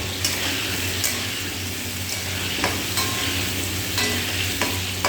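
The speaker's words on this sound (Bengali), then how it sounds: "আলুর মধ্যে একটু লবণ দিয়ে দেবো আর একটু হলুদ দিয়ে আলুটাকে ভেজে নেব।" Potato pieces fry in hot oil seasoned with salt and turmeric, a steady close sizzle running throughout with occasional scraping knocks as they are stirred in the pan.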